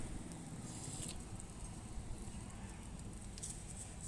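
Water pours onto the soil of a potted sweet osmanthus (mộc hương) plant, giving a continuous soft patter and splashing that stays even from start to finish.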